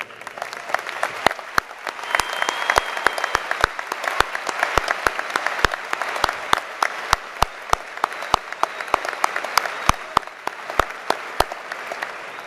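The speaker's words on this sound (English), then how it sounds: "Will these outstanding professionals please rise so we can give you an ovation?" Sustained applause from a large graduation audience in an arena, honoring the school staff; dense, steady clapping throughout with sharp individual claps standing out, no voices over it.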